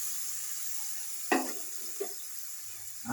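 Rinse water from a spice dish splashes into a pot of vegetarian potato curry (aloo dum), a short pour followed by a smaller splash against a low steady kitchen background.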